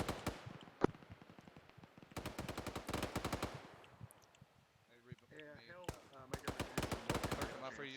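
Machine gun suppressing fire in a military video game, several rapid bursts of sharp automatic shots in clusters separated by pauses, with radio-style voices talking between and over the firing.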